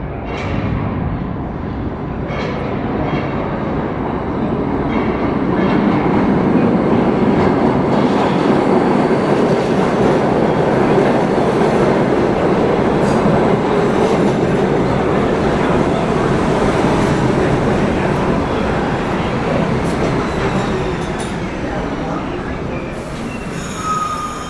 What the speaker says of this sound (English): Oh, that's a train coming now.